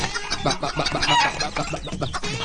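Chickens cluck repeatedly and busily, several birds close by, with short overlapping calls throughout.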